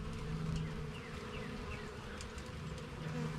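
Honeybees buzz steadily in an opened hive during a season-opening inspection, a dense, continuous hum close by with no talking.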